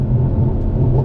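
Low, steady engine rumble from a tuned Mercedes-AMG C63S, a continuous close throaty drone idling without pauses.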